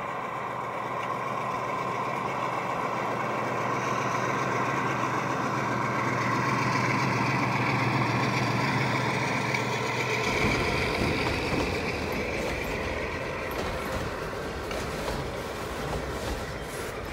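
G scale model Dash 9 diesel locomotives drone steadily as they labor up a steep 3% grade, a continuous rumbling engine note that shifts and roughens partway through, with no voices.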